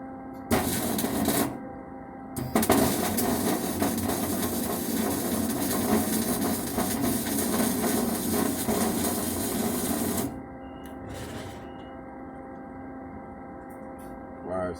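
Wire-feed welding, with a loud, continuous crackling buzz heard up close. It comes in one short burst and then one long steady run of about eight seconds, with brief quiet gaps and faint handling noise around it.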